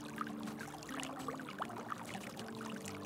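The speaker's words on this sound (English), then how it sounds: "Carson, this is a pretty shallow creek" Shallow creek water in the WolfQuest video game, a gentle continuous trickle and babble with small splashing pours, quiet and steady with no talk over it.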